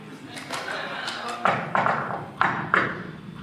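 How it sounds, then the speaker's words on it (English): Knocks land on a door during a live radio play, four sharp raps in two pairs over an ongoing voice and background murmur. "I'll knock on something. Let them know we're here."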